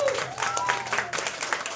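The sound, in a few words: concert audience applause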